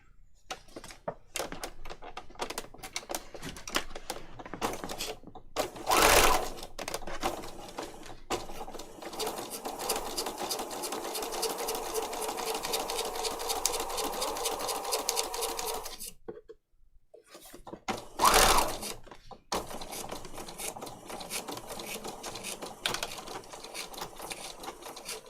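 A sewing machine stitches paper-pieced patchwork in uneven runs of whirring, broken by pauses, soft handling noises and a few sharp knocks, with no talk.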